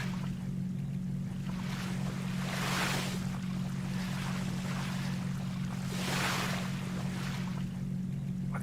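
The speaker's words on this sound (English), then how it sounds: "The sound of the waves is just so rhythmic." Ocean waves wash past a 400-foot yacht in a yacht simulator video game, with two slow, rhythmic swells rising and fading over a steady low engine hum and wind, all at a soft level and without speech.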